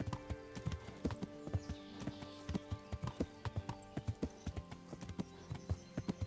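Horse hooves clip-clop in the medieval video game Kingdom Come Deliverance, a brisk, regular run of close, crisp hoof strikes over faint background tones.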